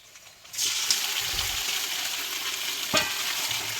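Marinated country chicken pieces go into a hot pan, a loud sizzle bursting in and continuing steadily while the meat is stirred, with a scrape partway through; no talk.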